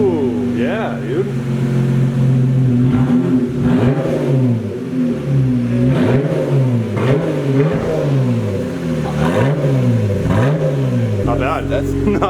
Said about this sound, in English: Oh, straight pipe sound.